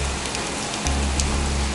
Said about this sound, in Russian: Кажется, дождь начинается.